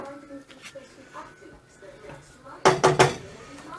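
Dry penne tips into a pot of boiling water on a kitchen stove with a few quick rattling clatters against the metal, loud and close, after quieter kitchen shuffling.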